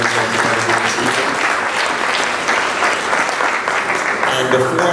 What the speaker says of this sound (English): please give them a round of applause for doing this evening.